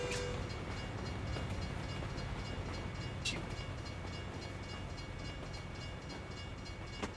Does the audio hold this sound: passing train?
yes